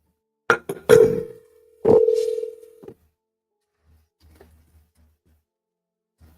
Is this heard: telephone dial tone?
yes